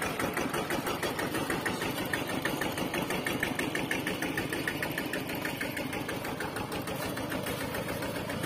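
A modified ride-on walking tractor engine runs in a pineapple field, a loud, close, steady chugging mechanical drone with rapid rhythmic knocking pulses throughout, no voices.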